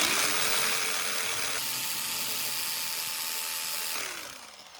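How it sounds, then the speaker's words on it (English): A power drill with a 5/8 inch bit bores into wood, whining steadily at close range, its pitch stepping up partway through, then winding down as it finishes. "Drop your 5/8 inch drill bit."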